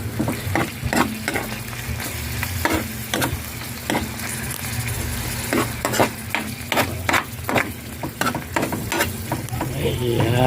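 Corned tuna with egg stirred in a frying pan, a continuous sizzle broken by regular scraping and tapping of the utensil against the pan, close and steady.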